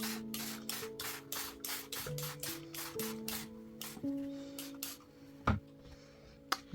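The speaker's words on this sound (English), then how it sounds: "So I'm just going to spray my napkin." A spray bottle mists a paper napkin during acrylic paint pouring, with a rapid series of short, close hissing squirts followed by a few softer rustles as the napkin is handled.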